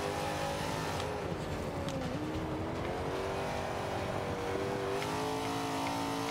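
A 1970 Dodge Challenger in the Forza 5 racing game drones loudly at high revs, its engine pitch dipping and climbing through gear changes and throttle lifts, steady and alone without talk.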